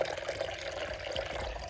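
Garden fountain water splashing and trickling steadily, a soft continuous patter with small drips, close and fairly quiet, no voices.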